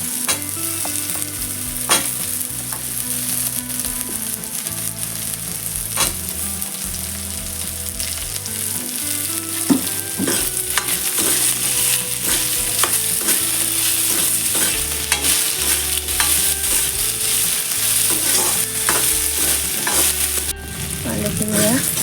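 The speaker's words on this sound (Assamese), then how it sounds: "আলুখিনি অকণমান ভাজি লোৱা হৈছে।" Potatoes fry and are stirred in a hot pan, a steady close sizzle running throughout with repeated scraping stir strokes and clinks of the utensil, loud and continuous, with no talking.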